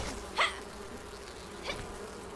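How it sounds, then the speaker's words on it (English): Bees buzz in the video game Enshrouded, with two faint, brief buzzes passing by about a second apart over a quiet background. "you end up with bees"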